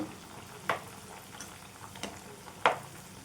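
Wheat flour and jaggery sweets fry in hot oil in a pan, a soft, quiet bubbling hiss with two or three short sharper crackles, close by and with no talking.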